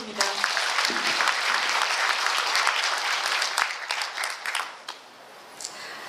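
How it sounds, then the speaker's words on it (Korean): An audience at a Gangwon Special Self-Governing Province briefing session in Yangyang gives dense, steady applause that thins out and fades toward the end. "다시 한번 박수 부탁드립니다."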